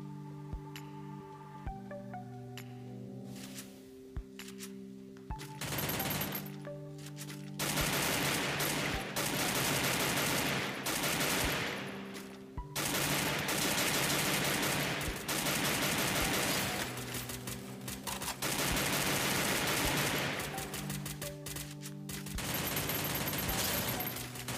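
Gunfire in Garena Free Fire, first scattered single shots over a game music bed, then long dense bursts of rapid automatic fire, loud and sustained with brief pauses.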